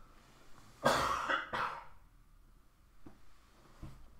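One harsh, close cough followed by a brief second burst, then quiet with a couple of faint clicks, during a Golf Clash game livestream.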